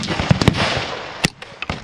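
Gunshots at an outdoor shooting range firing .308, .22LR, 9mm and .223: several sharp, loud cracks in an irregular burst, close by and ringing out over the open air.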